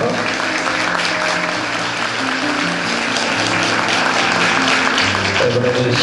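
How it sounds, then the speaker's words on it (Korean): Applause from guests at a wedding ceremony, a sustained wash of clapping with music or tonal background sound running underneath the whole time. "먼저 박수 부탁드리겠습니다"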